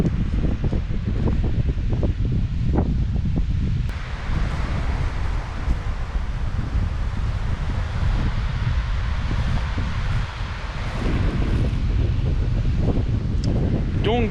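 Strong east wind batters the microphone on Denmark's far eastern corner, producing a steady, loud, roaring rumble that never lets up, with rustling gusts swelling and easing throughout.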